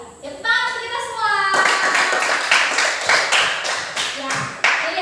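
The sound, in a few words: classroom clapping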